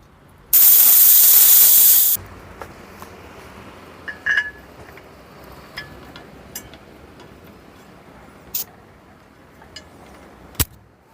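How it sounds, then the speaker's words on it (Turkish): Gas bursts out of a travel coffee maker cartridge pressed open with a hex key, a loud close hiss lasting under two seconds, followed by faint scattered clicks and taps. "Bu alyanla kartuşun içindeki havayı boşaltıyorum."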